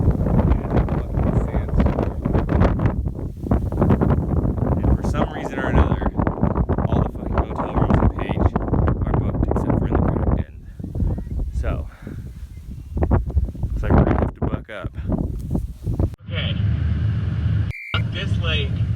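Strong wind blows sand across a lakeshore, roaring and buffeting the microphone steadily and loudly, dropping briefly near the end, while a voice talks underneath.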